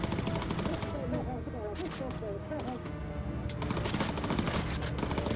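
A bomber turret's machine guns fire in Bomber Crew, a continuous rapid rattle with louder bursts layered over it, while a voice talks throughout.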